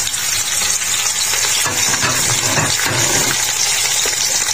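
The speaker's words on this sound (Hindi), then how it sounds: "ये देखें आवाज आने लग गई है हमारे ऑयल के अंदर, यानी तक हमारा ऑयल गर्म हो गया है।" Onions sizzling and frying in hot oil in a pan while a curry base is prepared at home, a steady loud crackle running throughout with no talking.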